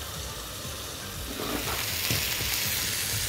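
Chicken frying in oil in a pan: a dense, even hiss of sizzling, close and steady, with faint stirring taps underneath and no talk.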